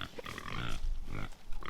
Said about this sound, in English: Come here, pigs. Hey, pigs.